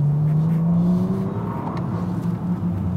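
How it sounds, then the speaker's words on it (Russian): A Bentley Continental GT with a V12 engine of about 640 horsepower, heard as a loud, close, continuous engine drone that rises smoothly in pitch as it revs over three seconds. "У этой тачки мотор V12."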